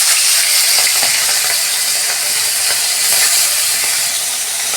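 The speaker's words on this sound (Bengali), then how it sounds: "তেল গরম হয়ে গেছে, আমি মাছটা ভেজে নিচ্ছি।" Pomfret fish frying in hot oil, a steady, loud, continuous sizzle and crackle that holds evenly throughout with no voices.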